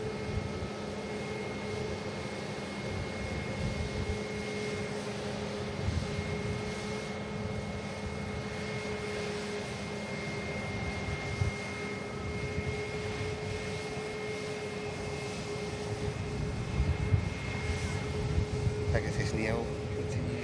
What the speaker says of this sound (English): Pegasus Neo continues the taxi.